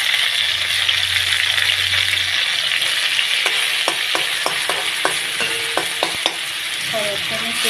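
Whole cumin seeds crackle in hot oil, sizzling loudly and continuously, with a run of sharp clicks and pops about halfway through. Spoon taps sound near the end, close and alone.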